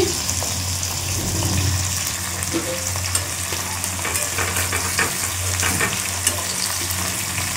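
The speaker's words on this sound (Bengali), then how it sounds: "মাছটা ভাজতে শুরু করে দিয়েছি।" Small bata fish fry in hot oil, a steady close sizzle with crackling bursts and faint stirring throughout, with no voices.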